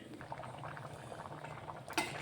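Coconut curry boiling in a pot on the stove, a soft, steady bubbling simmer heard close and quiet, with a brief clink of a utensil near the end.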